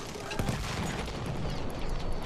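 Suppressive gunfire in an Xbox shooter match, a dense fusillade of rapid shots crackling continuously at moderate volume with a faint voice underneath.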